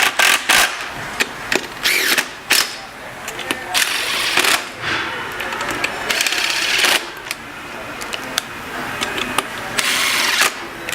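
A power tool tightens the shaft nut on a TRUBLUE SPEED auto-belay during servicing, giving short repeated bursts of mechanical whirring and clicking, mixed with handling noises and someone talking.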